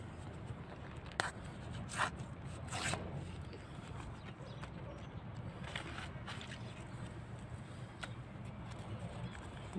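A paper packet of cherry tomato seeds torn open and rustled at close range, a few brief crisp rips and crinkles early on, then soft handling over a low steady background noise.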